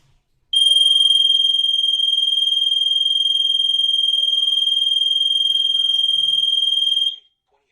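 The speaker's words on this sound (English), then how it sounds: "I could do that just to show what the alarm sounds like." A home alarm sounds loud and close, a steady piercing high-pitched tone held unbroken for about six and a half seconds before cutting off abruptly.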